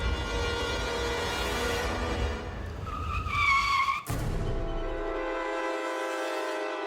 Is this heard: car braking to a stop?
yes